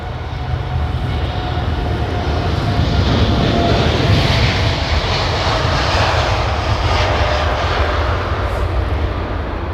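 Jet engines of an Air China Boeing 747-8i roar steadily through a takeoff roll, a loud, continuous broadband rumble with a faint whine on top, heard alone with no talk.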